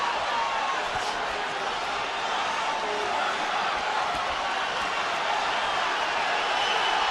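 Dense, steady roar of a boxing arena crowd on its feet near the end of the Canelo Alvarez versus Gennady Golovkin fight, a loud continuous wash of noise with no clear gaps.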